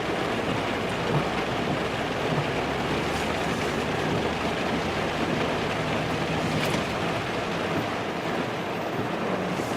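A normally dry creek, flooded after days of heavy rain, rushes in a dense, steady roar of water. The sound holds at an even loudness throughout with no talking.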